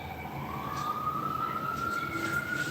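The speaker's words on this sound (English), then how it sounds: "I think that was an ambulance that was leaving." An ambulance siren wails in a long rising tone as the vehicle drives away, heard at a moderate distance over steady background noise.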